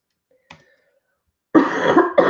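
A single sharp cough from a person with a lingering cough and sore throat, close and loud, coming after a faint brief click and about a second and a half of near silence.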